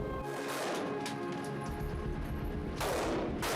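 Gunfire crackles and booms in dense, overlapping bursts at an indoor shooting range in Ballantyne, loud and reverberant throughout, with a fresh sharp volley near the end.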